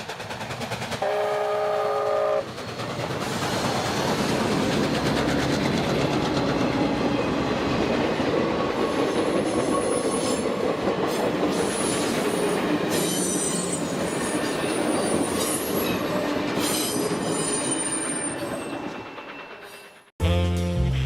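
Canadian Pacific steam locomotive No. 2816, the Empress of Canada, rolls along the rails with a loud, continuous rumble, squealing wheels and clattering cars for about twenty seconds before the sound cuts off abruptly.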